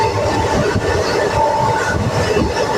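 An Erode–Jolarpettai passenger train runs at speed, a loud steady rumble of rail transport with rhythmic clickety-clack of wheels and faint metallic squeal, heard from inside with no talk.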